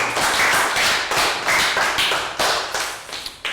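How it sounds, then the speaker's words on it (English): A classroom of Year 3 pupils gives a round of applause for a classmate: loud, close, uneven bursts of hand clapping pulsing across a few seconds, with no talk. "Round of applause for Nadia."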